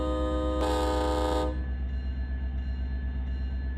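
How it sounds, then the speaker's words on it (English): A locomotive horn sounds in the Run 8 train simulator game on a freight run from Modesto to Fresno. One loud, steady blast holds for about a second over a constant engine rumble, which carries on after the horn stops. "All right, that whistle sounds great."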